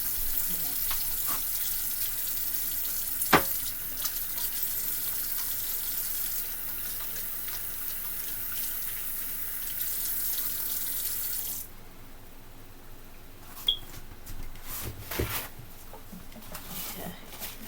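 Water runs steadily from a kitchen faucet as hands are washed, a continuous close hiss with a few light clunks, then the flow stops abruptly partway through, leaving quieter handling noises.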